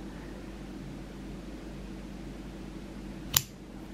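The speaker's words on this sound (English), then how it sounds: "I'm just going to cut those down the middle." Scissors cut through yarn tail ends on a crocheted snowman granny square, making one short, crisp snip near the end over faint, steady room hiss.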